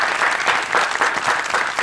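A television studio audience breaks into loud, dense applause for a singer, close and sustained with rhythmic clapping swells.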